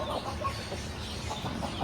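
A hen and rooster cluck in a coop on a hot day, giving a brief run of soft, close clucks over background hum.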